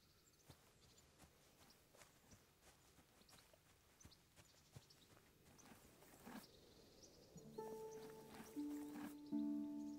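A roan horse's hooves walk in Kingdom Come Deliverance, faint, uneven clip-clops over soft ground, with a few sustained musical tones rising near the end.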